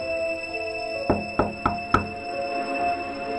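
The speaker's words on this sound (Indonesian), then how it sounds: "Aku mendengar suara ketukan pintu." Four sharp knocks on a door at night, in an uneven quick series, moderately close against a quiet room with steady background hum; no voices.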